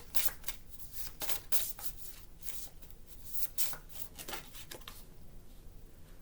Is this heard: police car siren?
no